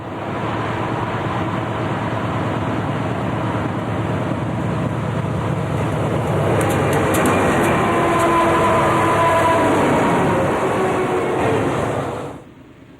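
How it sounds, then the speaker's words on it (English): GE Dash 8 and Dash 9 diesel locomotives lead a freight train through Feather River Canyon in 1996. A loud, steady rumble of engines and rolling wagons holds for about twelve seconds, then cuts off sharply. "GE's newer Dash 8 and Dash 9 models frequently lead freights for both railroads."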